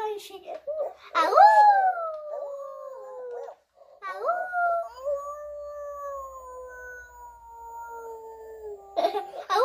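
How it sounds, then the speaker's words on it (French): A FurReal toy dog lets out long, wavering electronic howls that rise and slowly sag in pitch, loud and close, with brief voices and rustling at the start and end. "un furéal là. Un Chien. chien. Alors, je vais vous le mettre 2 secondes aussi parce qu'il hurle à la mort"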